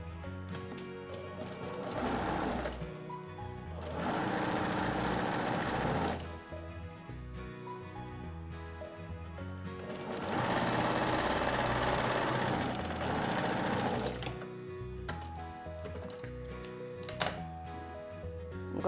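A sewing machine stitches patchwork fabric for a Seminole-style table runner in rapid bursts of whirring, clattering needle strokes, pausing and restarting several times, close by with no talk.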